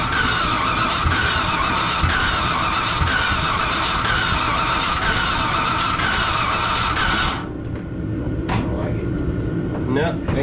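A Chevy small block engine in a swap project cranks over without firing after a shot of brake cleaner, a loud, steady starter whir with squealing overtones that cuts off abruptly, followed by quieter clatter and background sounds.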